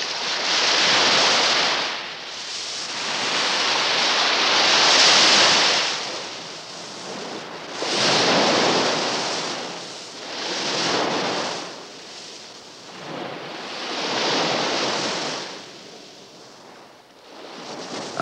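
Surf rolling onto the beach at Dieppe, France, in steady swells that rise and fall every few seconds, close and fairly loud with some wind rushing across the microphone, no voices.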